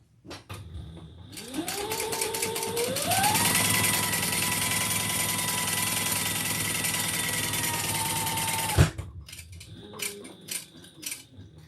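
A sewing machine stitching a leather strap revs up and runs at a steady fast drone for several seconds, then stops abruptly, followed by a few short ticking bursts.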